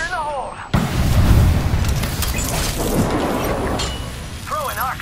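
A grenade goes off in a video game with a sudden loud boom that rolls into a long rumbling tail, close and heavy, framed by brief electronic chirps from the game.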